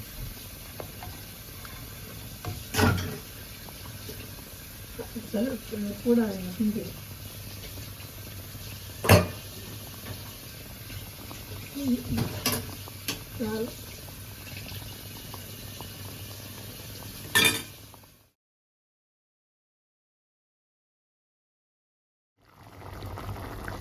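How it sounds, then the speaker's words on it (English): Tofu and fresh tomato curry gravy simmers in a pot in Sri Lankan style, giving a steady low bubbling with scattered pops and a few sharper clicks before the sound cuts to silence. "while it is bubbling, it will absorb some of the gravy"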